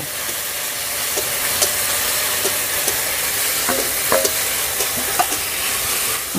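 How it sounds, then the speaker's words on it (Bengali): Spice paste with dried red chillies frying in a pan for a village-style banana blossom and prawn dish, a constant loud sizzle with soft scraping taps of stirring scattered throughout, no talking. "মশলাটা আমি ভালো করে কষিয়ে নেব"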